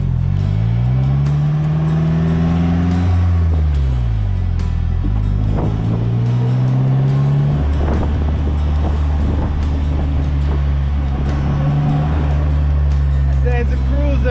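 A 2016 Polaris Slingshot cruises on the road, its engine droning and shifting pitch under heavy wind rush, while someone talks over it.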